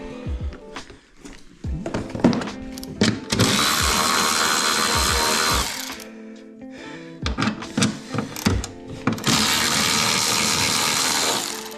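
Electric ratchet at work on a Ski-doo snowmobile during modification in a shop, giving two sustained whirring bursts of several seconds each, loud and close, with clanks and tool handling between them.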